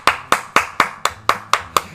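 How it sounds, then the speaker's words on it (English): Crowd hand-clapping in the video game Persona 5 Royal: eight crisp, evenly spaced claps in a quick, steady beat, loud and upfront with no speech. "Everybody clap your hands!"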